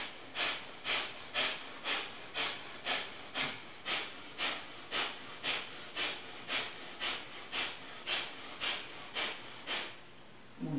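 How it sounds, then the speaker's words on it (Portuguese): Breath of fire breathing exercise in an older adults' Pilates and yoga class: a fast, even series of about twenty sharp, forceful nasal exhalations, close and loud, in a steady rhythm until a pause near the end. "Marca um ponto na frente, observa esse ponto e faz a respiração do fogo."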